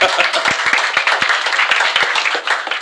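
Audience applause at a press conference, a dense burst of close clapping hands with sharp individual claps standing out, lasting throughout.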